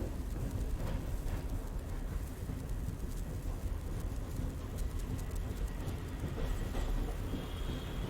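Bhimavaram–Vijayawada MEMU passenger train (67282) running at night, a steady loud broadband rumble and rattle of wheels and carriage throughout, with no speech.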